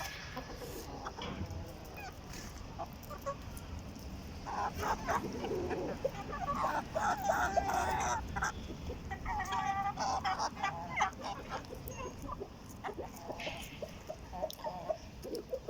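A flock of poultry, including roosters, calls faintly in the background, with scattered clucks and honking cries over a constant low hum, no one speaking.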